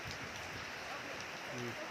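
Rain falls steadily in a dense, even hiss, faint and continuous, with someone speaking quietly over it.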